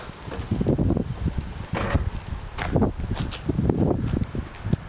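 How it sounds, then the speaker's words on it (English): Gusty wind buffets the microphone outdoors beside a 2014 Forest River Georgetown 270S motorhome, a loud, continuous rumble with irregular surges and bursts throughout. "It's a little windy, so forgive the noise."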